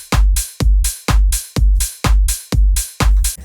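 Simple house beat: a steady four-on-the-floor kick with open hi-hat, shaker and a clap on every other kick, seven punchy hits looping evenly, loud and alone.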